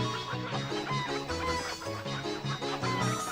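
Chickens cluck in Breath of Fire IV, a busy, continuous chatter of repeated clucks and short squawks at even volume, with no talk over it.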